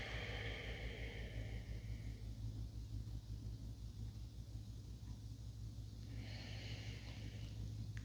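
Slow, deep breaths taken while seated in chair yoga, a long airy inhale then exhale, faint over a steady low rumble.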